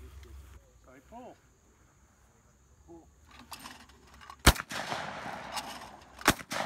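Shotgun blasts at clay targets during an outdoor shooting class: two loud, sharp reports about two seconds apart in open air, following an instructor's spoken praise and call, with insects chirping faintly in the background.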